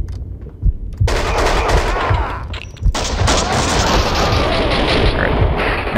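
Rapid gunfire in the game Max Payne 2, loud sustained bursts of automatic shots with sharp reports, a brief gap near the start and another short break midway, then continuous firing.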